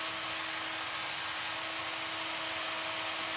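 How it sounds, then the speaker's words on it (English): A plunge router fitted with a 3/8 spiral up-cut bit runs against a fence, cutting wood with a steady, loud, close whine that holds unchanged throughout. "I just set a fence on my router and get a 3/8 spiral up cut bit, and just line it up and make the cut"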